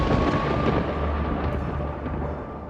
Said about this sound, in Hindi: तभी जोर से बिजली कड़की।